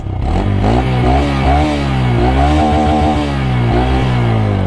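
A Honda MSX 125 single-cylinder motorcycle engine revs up and down repeatedly, loud and close, with a throaty exhaust note rising and falling.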